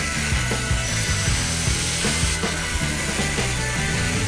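Makita angle grinder cutting through 13 mm threaded steel rebar, a loud continuous abrasive whine with rough grinding texture and slight pulsing as the disc bites, steady throughout with no talking.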